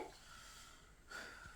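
A patient draws one long, slow deep breath in during a head-to-toe assessment, a soft steady airy hiss close by that swells again near the end, with no talking over it.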